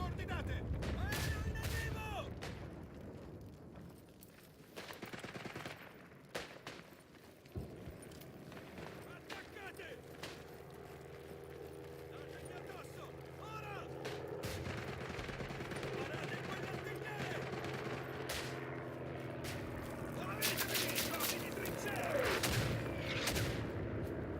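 Isonzo, a World War I video game, with an aircraft strafing run and artillery fire, loud booming blasts and rapid gunfire bursts, dense at the start and returning later over a continuous engine-like drone, with voices talking at times.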